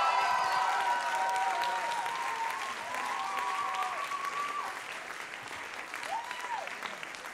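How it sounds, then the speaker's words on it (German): An audience claps at a Swiss talent contest stage show, sustained steady applause from a crowd with a few whistles running through it, fading slightly toward the end. "Euch ein Applaus"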